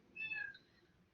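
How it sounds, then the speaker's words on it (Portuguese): A single short meow from a pet cat indoors, a brief high-pitched call lasting under half a second, faint and somewhat distant, with no talking around it. "se vocês ouvirem agora gatos miando, são meus novos bichanos"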